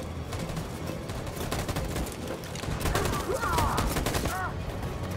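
Dense, continuous machine gun fire in Detroit: Become Human, a loud rattling fusillade that runs the whole time and grows heavier toward the end, with voices faintly mixed in.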